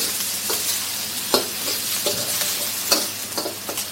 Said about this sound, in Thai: เจียวกระเทียม แล้วก็ พริกเข้าไปนะคะ ให้มันหอมก่อน